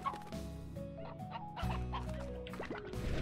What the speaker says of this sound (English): Lovely chickens.